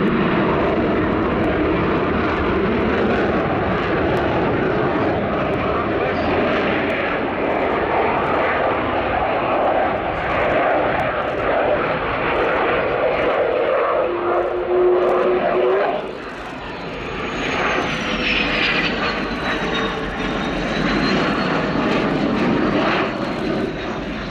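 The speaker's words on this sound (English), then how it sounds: "afterburner being engaged." A military jet roars through a slow-speed pass at the Yeovilton air show, its loud, broad engine noise swelling as the afterburner engages, with a rising, shifting whine toward the end.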